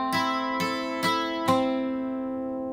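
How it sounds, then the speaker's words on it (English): Acoustic guitar plucking single strings one at a time, four clear notes spaced evenly about half a second apart, ringing out and decaying alone with no talk over them. "right here we're gonna play each string separately."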